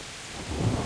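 Rain falls with a swelling rumble of thunder in the medieval game Kingdom Come: Deliverance, a steady hiss with the low roll building over the last half second.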